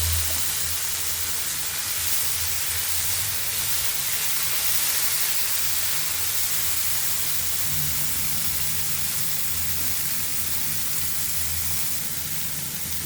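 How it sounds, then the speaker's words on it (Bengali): Vegetables frying in a pan for Bengali bharta give a steady, close, hissing sizzle that holds even and unbroken from start to finish, with no talking. "এরপর আমি এগুলো সবজিটা ভেজে নেব একটু।"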